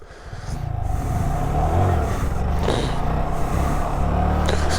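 A motorbike engine is revved hard again and again as the rider dumps the clutch trying to lift the front wheel. Its loud, close roar rises, surges and falls, with no voices.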